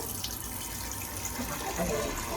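Water spraying from a Cocojor Minicle micro bubble shower head, a steady rushing hiss that holds even throughout with no talk.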